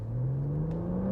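A BMW M140i engine note rising steadily in pitch as it revs, close and loud, with a smooth droning tone over the whole short stretch.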